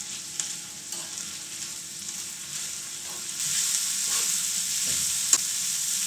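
Cabbage, cauliflower and capsicum stir-fried with cashews in a pan for veg pulao, a soft steady sizzle that grows louder and brighter partway through as vegetables go in, punctuated by occasional spatula scrapes and a sharp clink near the end.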